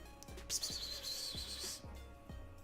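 A pet bird called Bird Dog chirping softly, one thin sustained whistle-like call over faint background, with repeated low thumps in a steady rhythm.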